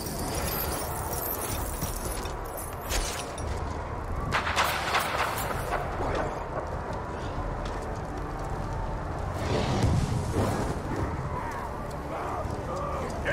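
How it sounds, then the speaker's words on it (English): Explosions and battle impacts from the video game Middle-earth: Shadow of War, forming a dense, continuous barrage of booms and crashes with heavier bursts near the middle and end. "I hope you like explosions."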